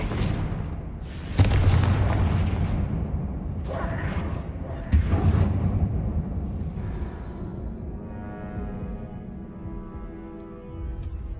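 Confringo fire spell exploding in Hogwarts Legacy, with a couple of deep booming blasts and crackling debris, followed by a fading rumble and a soft tonal ring.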